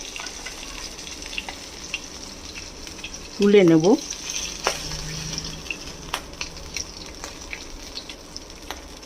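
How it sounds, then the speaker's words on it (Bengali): Hilsa fish pieces fry in oil in a pan, giving a steady close sizzle with scattered crackles and pops throughout, while someone briefly speaks over it. "উল্টো দিকটাও ভাজা হয়ে গেছে"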